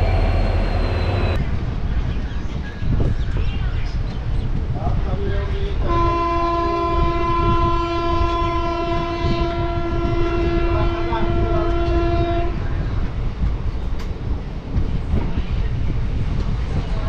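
The 13063 Balurghat Express passenger train runs with a continuous loud rumble and rattle of wagons, and a long sustained horn blast sounds for several seconds in the middle.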